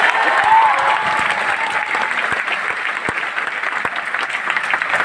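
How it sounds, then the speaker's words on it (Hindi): A lecture audience in Patna claps loudly and steadily for several seconds, a dense, continuous wash of many hands close by. "बजाओ ताली।"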